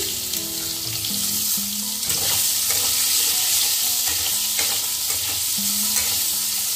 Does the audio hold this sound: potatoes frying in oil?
yes